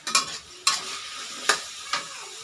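Chinese kale and tomato being stir-fried in a pan, four sharp scraping stirs of a spatula over a soft constant sizzle, close and alone with no voices.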